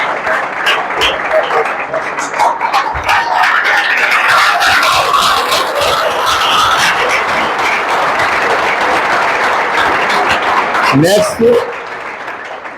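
Sustained loud applause from a gathered audience at a selection felicitation event, dense clapping filling the room for most of the clip while a voice speaks over it, ending with a brief spoken line.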